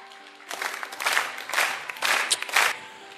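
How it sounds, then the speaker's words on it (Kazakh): Wedding banquet guests at the Tumaris restaurant clap in several rhythmic bursts of applause, swelling and fading about every half second, fairly close and lively, with no talk over them. "Шапалақ."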